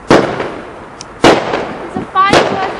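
Bonfire Night fireworks go off close by, three sharp loud bangs with crackling tails, and a voice comes in briefly near the end.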